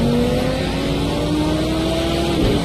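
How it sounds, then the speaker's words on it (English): Deep engine note of a Ginetta race car in the racing game Project CARS 2, a steady low drone holding near and loud with a slowly rising pitch, no talk over it. "that Ginetta sounds like it's got a really deep engine"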